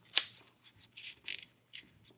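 Heavy scissors snip through a sewing pattern, one sharp cut followed by a series of softer, uneven crunching snips close by.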